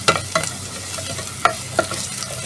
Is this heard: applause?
no